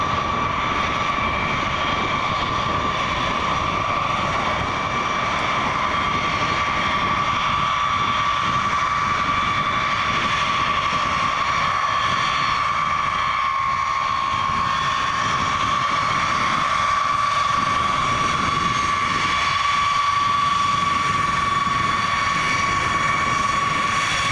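A B-52 bomber landing in a crosswind at RAF Fairford gives off a loud, steady jet engine roar with a sustained whine. It holds unbroken for the whole stretch, with no voices over it.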